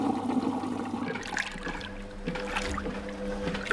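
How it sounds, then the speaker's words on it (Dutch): A cartoon washing machine fills with water and detergent, a soft gurgling and sloshing rush of liquid that runs steadily at low volume with no voices. "De wasmachine loopt vol met wasmiddel en water."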